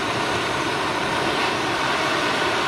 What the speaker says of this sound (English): So I'm just heating up my nice expensive wrench.